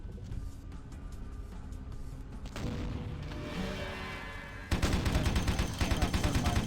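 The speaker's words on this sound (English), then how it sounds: "I'm trying to shoot from this guy's shotgun." Shotgun fire in the PC game Vampire: The Masquerade – Bloodlines, heard as a steady run of loud rapid gunshot bursts over game background noise, growing heavier and more intense toward the end.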